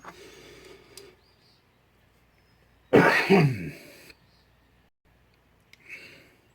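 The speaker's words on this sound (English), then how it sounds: "Excuse my cough." One harsh throat clearing with a short cough bursts out close by, loud against near silence, preceded and followed by faint soft sounds, from a man reloading 9mm ammunition.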